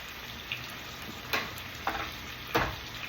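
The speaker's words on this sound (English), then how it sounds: "Get that old spoon going" Tuna cooking in a pan under a steady frying sizzle, with a spoon scraping and stirring in three or four distinct close strokes and no talking.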